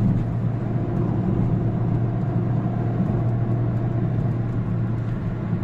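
Peugeot 206 Type 5 car engine pulling up a slight road incline, a steady, loud low rumble with constant road noise throughout, no voices.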